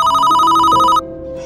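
A telephone rings with a bright electronic trill that cuts off after about a second, followed by a softer lingering tone. It is loud and close, with no voices.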